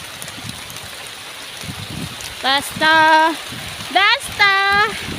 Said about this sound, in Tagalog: Malakas talaga ng ulan, basa na ako.